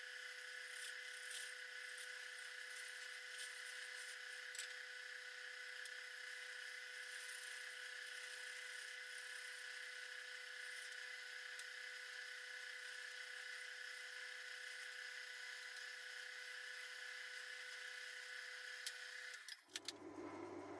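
Woodturning lathe running steadily with a steady rest while unwanted shaft ends are cut off during a mezzaluna restoration, a constant high whine throughout that stops abruptly near the end.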